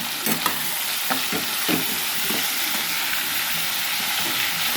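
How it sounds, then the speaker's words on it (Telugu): Brinjal, drumstick and tomato curry with salt being stirred in a pan: a continuous sizzle with repeated scraping stir strokes close by, no talk. "ముందుగా ఇవన్నీ వేసేద్దాం ఫ్రెండ్స్ ఒకసారి వేసేస్తాను కొంచెం ఉప్పు వేసుకొని కలుపుకుందాం"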